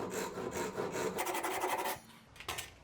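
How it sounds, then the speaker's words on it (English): A hand saw cuts a tenon in a workpiece held on a traditional workbench, giving a close, steady rasping of back-and-forth strokes that stops abruptly near the end, followed by a couple of light taps. "I can finish cutting this tenon here."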